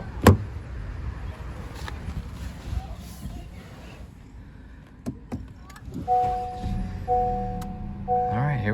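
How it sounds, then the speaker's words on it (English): A 2022 Honda Civic Hatchback with a 1.5-liter turbo four-cylinder drives along, giving a steady low cabin rumble with a few sharp clicks. A repeating two-tone chime sounds near the end. "I'm driving the Honda Civic now"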